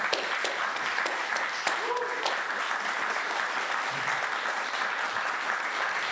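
Applause from a concert audience goes on steadily, with a sharper single clap now and then and faint voices murmuring beneath the crowd's clapping.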